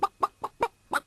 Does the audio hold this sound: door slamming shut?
no